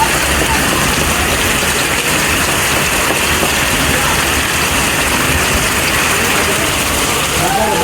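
Heavy rain pours down on a village during a cloudburst, a dense, steady roar that stays loud and unbroken throughout with no pauses.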